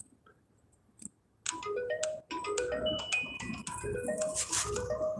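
A phone rings with a bright melodic ringtone of stepping electronic notes that starts after a quiet click and repeats steadily at close range.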